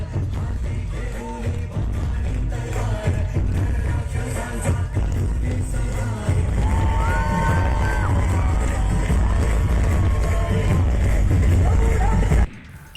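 A large crowd at the Shivneri fort celebration of Shivaji Maharaj's birth anniversary chants and cheers together in loud, overlapping voices, while a reporter talks over the noise.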